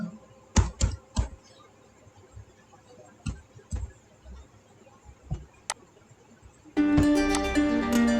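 Someone types a password on a computer keyboard with a few scattered key clicks in quick bursts and pauses, close and crisp. A louder, denser burst of sound cuts in near the end.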